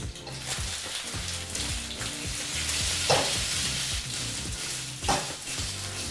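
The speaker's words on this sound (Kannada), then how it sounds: "ಸ್ವಲ್ಪನೇ ಸ್ವಲ್ಪ ಬಿಸಿಯಾದಂಥ ಎಣ್ಣೆಯಲ್ಲಿ ಇಡ್ಲಿಗಳು ಫ್ರೈ ಆಗಬೇಕು" Small pea idlis fry in a little hot oil in a pan and are mixed with spiced tempering: a continuous close sizzle with repeated rhythmic scraping stir strokes and an occasional clink of the utensil.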